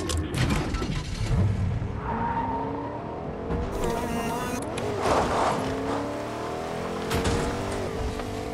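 A truck drives in the Fortnite video game, its engine droning steadily and moderately loud with mechanical rattles and a few booms mixed in.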